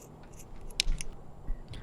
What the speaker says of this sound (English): Now I'm just once again trimming off the extra so they get straight edges.